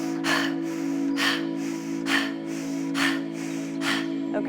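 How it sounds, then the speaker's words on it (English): Quick, forceful breaths are drawn sharply in through the nose and pushed out through the mouth in a steady rhythm, about five cycles, close and clear over a constant low hum during a yoga breathing exercise. "You're going to sharply breathe in through the nose and exhale through the mouth"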